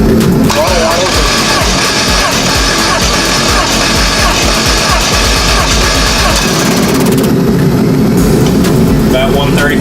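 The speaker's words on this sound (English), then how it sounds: "we're rolling a compression test quick, just to verify health of the motor" SRT4 engine cranking over during a compression test: loud, dense rhythmic mechanical churning and rumble filling the clip, with people talking over it.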